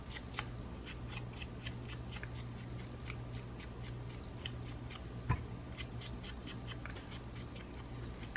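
Scissors snip through paper while cutting out a paper rose at a crafting desk, giving soft, close, repeated cutting and rustling sounds with a steady faint background hum.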